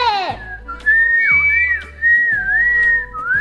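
Children in a loudest-whistle contest whistle shrill, wavering tones that rise and fall, loud and close, with several whistles overlapping in bursts across the clip.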